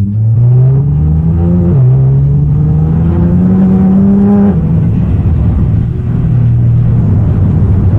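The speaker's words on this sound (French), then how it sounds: "faisons un burn-out en transmission intégrale" Nissan GTR doing an all-wheel-drive burnout at a traffic light, its engine roaring loud and close with a steady high-revving drone that steps through pitch changes, sustained without pause.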